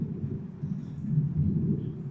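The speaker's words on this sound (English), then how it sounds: "you hear the thunder?" Low, rolling thunder rumbles on and on during heavy rain, a soft, distant-sounding roar with no talking over it.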